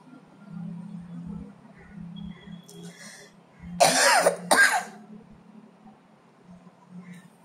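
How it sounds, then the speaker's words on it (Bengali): A woman in a kitchen coughs twice in quick, harsh bursts, close by, over a quiet cooking background. "এত কাশি হচ্ছে তোমাদের কি বলবো, অসম্ভব কাশি হচ্ছে"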